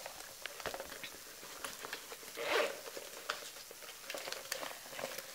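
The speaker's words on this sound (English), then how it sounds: "There is one zipper on the back wall." A zipper on the back wall of a Dooney & Bourke leather handbag lined with red cotton twill, drawn in one short, fairly close rasping pull that stands out from quieter handling rustles.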